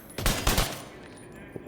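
Gunfire in the video game The Division 2: a quick burst of several loud shots close together, then the noise dies down to a lower game background with one faint later pop.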